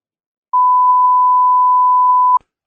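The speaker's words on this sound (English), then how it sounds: "now we beeped it out" A censor bleep on a talk show covering a swear word, a single loud steady tone held for almost two seconds, alone with no voices around it.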